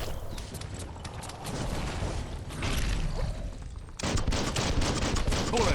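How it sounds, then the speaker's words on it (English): Gunfire in the video game Biomutant: rapid bursts of shots and impacts in a continuous, busy volley with a brief break before the firing resumes loudly. "Bullets everywhere."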